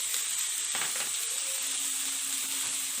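Chicken, vegetables and spaghetti stir-frying over high heat in a pan, giving a steady, moderately loud broadband sizzle and hiss throughout, with a brief burst of tossing or scraping near the start and no talking.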